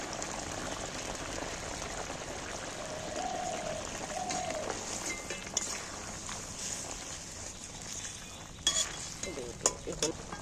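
Mustard and poppy seed paste goes into a pan of fish as it cooks. A low simmering bubble runs under soft stirring and a few clinks of a utensil, and the sounds grow sharper toward the end.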